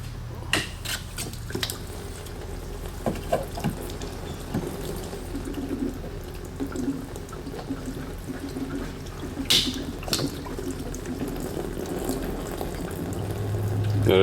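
Water runs and gurgles continuously as a hot tub drains, a steady close rush of splashing liquid with occasional clicks and knocks, growing slightly louder toward the end.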